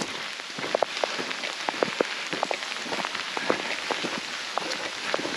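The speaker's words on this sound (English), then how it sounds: "It's raining pretty good now." Heavy rain falls steadily outdoors on a walk, a dense continuous hiss with many sharp drop impacts close to the microphone, no voices.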